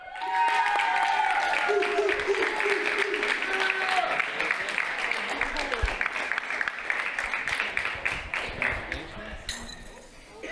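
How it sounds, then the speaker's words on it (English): A crowd applauds steadily at a school Rocket League esports championship, dense clapping that gradually thins toward the end, with some voices and cheering mixed in. "Huge round of applause for both teams and all middle school teams throughout the season"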